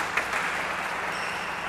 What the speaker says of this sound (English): Applauded by the many people that have come along to watch this match.